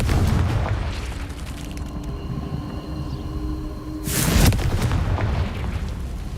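A Confringo fire spell from Hogwarts Legacy detonates with a loud, sudden booming blast that rolls out into a rumbling tail, following a stretch of humming game ambience, with no voices.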